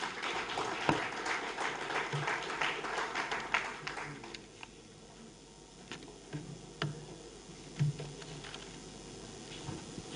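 Scattered clapping from a crowd at a climate summit in Fort Portal, fairly dense at first and thinning into lighter, sparser claps toward the end.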